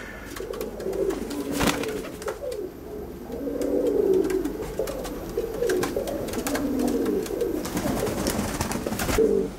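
Racing pigeons coo in a loft, a steady overlapping chorus of low burbling calls from several birds close by, with faint rustling and no talk.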